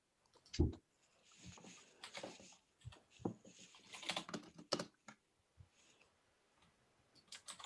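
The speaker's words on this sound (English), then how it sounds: "you've all just heard my loud clicky keys" Loud clicky computer keys typed in short irregular bursts, close and crisp, with quiet gaps between clusters of keystrokes and no talking.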